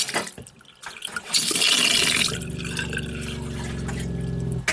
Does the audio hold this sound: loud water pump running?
yes